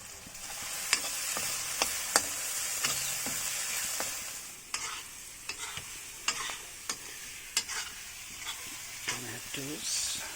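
Chilies sizzling in a hot pan of masala for a goat intestine boti, a steady frying hiss broken by sharp stirring clinks and scrapes, with light movement throughout.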